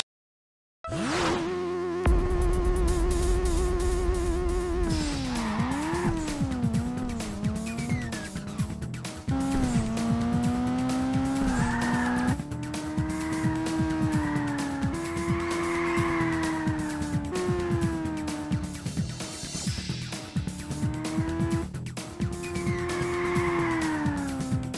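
A car drifts through a long slide in Burnout 2: Point of Impact, its engine droning loudly with shifting pitch while sustained tire squeal rises and falls, continuous and close, with no talk over it.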